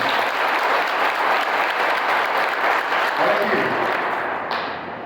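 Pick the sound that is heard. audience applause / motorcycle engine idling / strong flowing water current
audience applause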